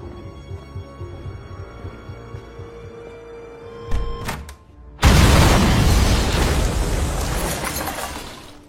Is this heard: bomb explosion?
yes